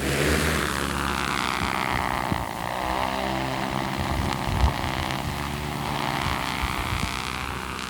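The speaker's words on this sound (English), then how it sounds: "All right, we're ready to launch the drone." A large drone launches and flies over a wildfire, its propellers producing a steady, droning whir that holds fairly loud throughout with slight shifts in pitch and no speech.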